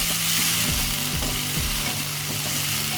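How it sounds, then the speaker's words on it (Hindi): Tomatoes frying with ginger and garlic in a pan for chicken achar gosht, giving a dense, constant loud sizzle with faint low knocks and scrapes of a spoon stirring underneath. "और टमाटर को भी अच्छे से ज़रा थोड़ा हम फ्राई कर लेंगे, नरम हो जाए थोड़ा सा।"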